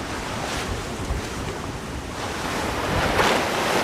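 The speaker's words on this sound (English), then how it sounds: "As he blasts through 20-foot waves and stiff headwinds, Giovanni thinks about his lost friend" Ocean waves crash and strong wind roars over open sea during a 1998–99 around-the-world solo sailing race, a dense, continuous rush of surf and wind noise with surges, no voices.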